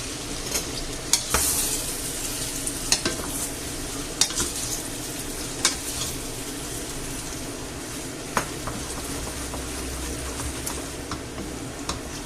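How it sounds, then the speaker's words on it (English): Bolognese sauce is stirred in a pan, a steady low simmer and sizzle with repeated soft scrapes and knocks of the spoon against the pan, close by with no talking. "So now we'll give it a good old mix about."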